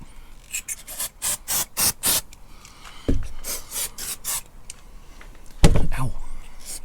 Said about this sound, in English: This is silicone spray, so I'm just going to spray it round the rubber